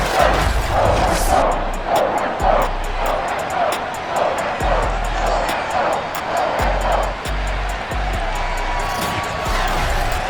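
A sold-out stadium crowd in the Madden NFL 22 video game roars continuously for a Patriots home game against the Miami Dolphins, dense and loud, with repeated thumping impacts throughout.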